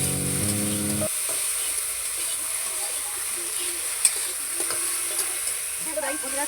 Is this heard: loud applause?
no